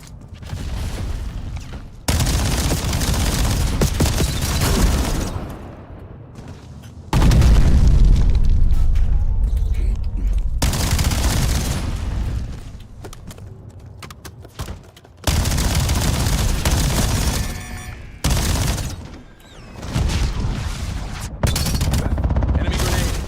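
Heavy booms and bursts of gunfire roll through a video game firefight as an enemy grenade explodes, loud blasts alternating with brief quieter gaps, with a voice occasionally heard amid the combat.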